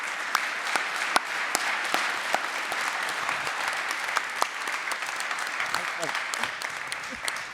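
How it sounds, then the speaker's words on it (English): Audience applause after a panel session at a solar supply chain conference, steady dense clapping from a crowd with a few sharper claps standing out, continuing throughout at moderate loudness. "Can I ask a round of applause for the panel"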